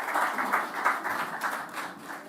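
Audience applause at the official commissioning of a bank branch in Manchester, a steady dense patter of many hands clapping continuously at moderate level, with no voices over it.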